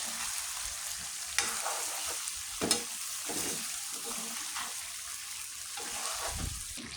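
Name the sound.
frying tempering (baghar) for beef and vegetable curry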